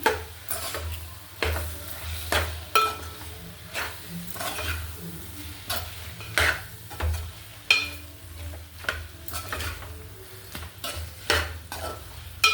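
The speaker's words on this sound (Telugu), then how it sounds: "ఇలా బాగా కలుపుకోవాలి" A spatula stirs gongura prawn curry in a frying pan, making rhythmic scraping strokes about every half second over a continuous sizzle, up close and with no one talking.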